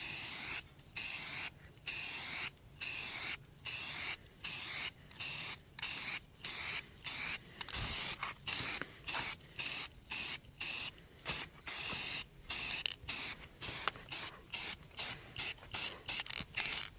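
Spray gun painting the hull of a studio-scale Spindrift model from Land of the Giants, in bursts of bright hissing spray, each a second or so long, separated by short silent gaps, close and steady throughout.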